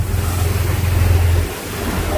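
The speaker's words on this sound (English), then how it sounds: "it's got a little wind going here" Loud wind buffeting and wave wash on open blue sea off Aruba from a fishing boat, a heavy rumbling rush that eases slightly near the end.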